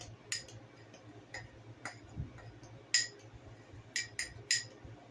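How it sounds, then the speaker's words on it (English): A spoon stirring a homemade chemical cleaning mixture in a container, giving a series of light, sharp clinks and taps spaced irregularly over a quiet background. "Give it a stir"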